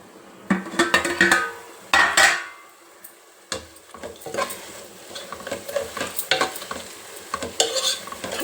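Red gongura leaves stirred in a hot pan for gongura chicken curry, loud close scraping strokes and crackling sizzle in bursts, a brief pause, then continued stirring.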